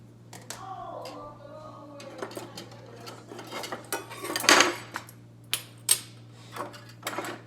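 Cooking utensils clattering while being rinsed in a kitchen, scattered metallic clinks and knocks over a low steady hum, close by, with no talk.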